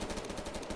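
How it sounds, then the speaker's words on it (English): Dense automatic gunfire in the Roblox shooter Phantom Forces, a steady rattle of rapid shots filling a brief moment with no talking over it. "Who is shooting at me?"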